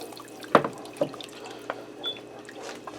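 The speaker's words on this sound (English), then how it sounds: "I'm going to add in about 3 more cups of water." Water goes into a pot of hamburger vegetable soup in a low pressure cooker, heard as a few soft splashes and drips over quiet background noise.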